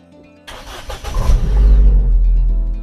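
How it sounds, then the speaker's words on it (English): A Ford Fiesta ST, rebuilt after being written off, cranks briefly and fires up close by, then settles into a strong, steady idle with a deep rumble. "Let's see if we can fire the car up."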